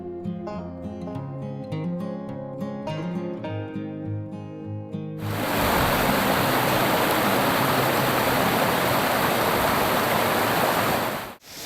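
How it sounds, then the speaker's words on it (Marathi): A large monsoon waterfall at Visapur Fort in the Sahyadri hills, a loud, steady roaring rush of falling water that starts abruptly after a stretch of music and fills the rest. "तुम्ही मोठा धबधबा बघू शकता, केवढा मोठा धबधबा आहे"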